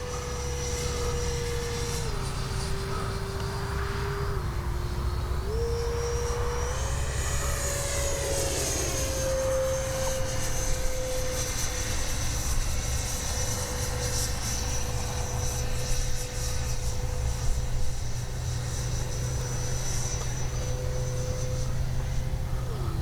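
A Freewing F9F-5 Panther 70mm electric ducted-fan RC jet makes a fast pass, its steady high-pitched fan whine rising and falling slightly over a constant rushing roar, heard from a distance for a sustained stretch.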